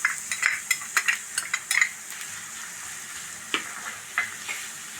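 Chopped onion, four green chillies, ginger garlic paste and curry leaves fry in a pan under a steady sizzle, with quick spatula scrapes and clicks bunched early on, then sparser strokes.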